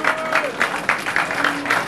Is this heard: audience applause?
yes